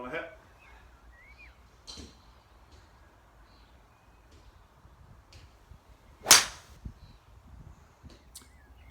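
A golf ball is struck with a TaylorMade M2 Tour 3 wood, one sharp, loud impact crack standing out midway, surrounded by faint scattered clicks and quiet outdoor ambience.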